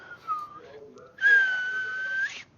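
During a tabletop roleplaying game, a person whistles to imitate a sound effect: a short gliding tone, a pause, then a louder sustained whistle held for about a second, with no speech.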